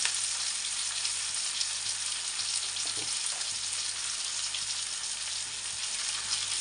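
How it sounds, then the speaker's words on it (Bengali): Potatoes sprinkled with salt fry in a pan for a fish curry, giving a continuous, close, even sizzle with faint stirring ticks. "দিয়ে এখন আলুটারে লাল লাল করে একটু ভেজে নেব"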